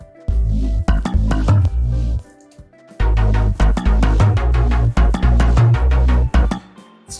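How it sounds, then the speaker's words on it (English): Slap bass pattern inside a dense electronic music track, punchy low plucked notes driving steadily under layered synths, with a brief drop near the two-second mark before the groove returns and continues loud to the end. "this pattern here has also slap bass"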